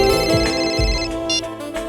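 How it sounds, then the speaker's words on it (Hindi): A phone ringtone plays as a loud, steady electronic melody with sustained tonal notes, close and alone. "तुम्हारा फोन रिंग हो।"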